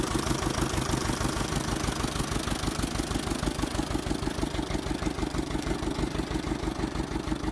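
A tractor engine runs steadily as it pulls away, a dense rhythmic low chugging with clattery knocking that holds at an even, fairly close level throughout, with no voices.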